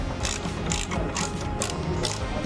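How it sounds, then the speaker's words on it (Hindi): A ratchet tightens the 14 mm engine mount bolts on a Hyundai Xcent during a clutch replacement, giving fast repeated clicking strokes close up with no talk. "ये माउंट के बोल्ट अभी कस लेते हैं"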